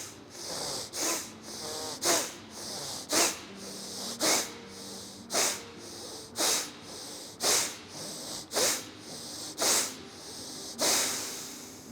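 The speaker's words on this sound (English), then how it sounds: "There will be a gentle snuffling sound from your nose" Bhastrika pranayama breathing is heard as a steady series of about a dozen forceful nasal breaths, each a sharp snuffling hiss, evenly spaced roughly a second apart, close and alone with no talking.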